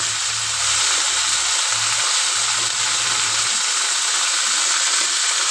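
Okra chorchori sizzling and being stirred in a pan, a loud, steady frying hiss that runs unbroken throughout, with faint low scraping of the stirring underneath.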